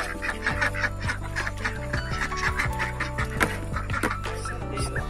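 Thai chickens clucking on a farm with exotic animals, a steady run of repeated clucks and calls close by, dense and continuous with no talking.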